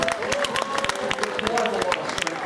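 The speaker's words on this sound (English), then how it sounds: "Huge round of applause again for the tigers" Audience applause for tigers at the Dreamworld Tiger Island show on the Gold Coast, a brief burst of dense clapping from a crowd, with a presenter's voice over it.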